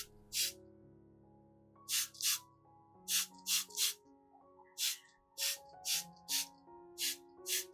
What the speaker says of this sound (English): Spray directly on the orchid roots, help protected, and always have very healthy roots.